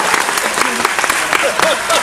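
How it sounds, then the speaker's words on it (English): Steady audience applause at a live comedy panel on the JoCo Cruise, continuous clapping throughout with a few voices faintly mixed in. "applause"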